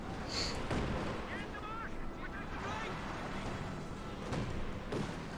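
Battlefield gunfire and artillery from Company of Heroes 2 crackle and thud through a dense wartime din, with scattered bursts and distant booms layered over continuous background noise.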